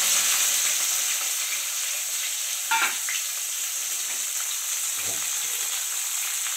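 Chopped onion tipped into hot oil with a fried spice tempering for a spicy stingray curry, giving a steady, close sizzle with a brief louder burst as it hits the pan, then a softer stir.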